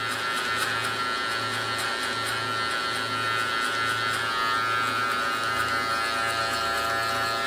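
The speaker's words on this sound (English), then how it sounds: "as soon as I hear that clipper cut, I'm not going no higher" Electric hair clippers buzz steadily through a mid taper with a 2 guard, the motor note pulsing in a regular rhythm as the blade cuts through hair, close and continuous with no talking.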